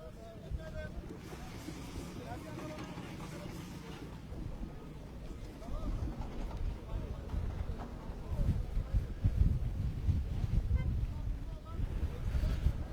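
Gale-force wind roars and buffets continuously beside a factory fire in Milas, Turkey, a broad low rumble that builds louder toward the end, with faint voices beneath.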